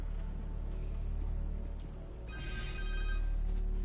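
A cell phone rings in the Spider-Man 2 video game, a short electronic ringtone with bright repeating tones rising over a low steady game hum and background music.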